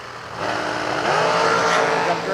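Drag racing cars launching at a Stars and Stripes New Year event: a loud, steady engine roar that swells and holds as the cars pull away, with no pause.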